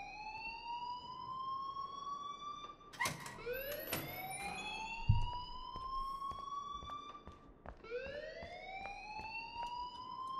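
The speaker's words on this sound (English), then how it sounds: "please turn off that alarm since that's your" A fire alarm goes off in the Life is Strange video game, a wailing siren-like tone that rises and repeats in sweeping cycles over steady background noise, with a few sharp clicks partway through.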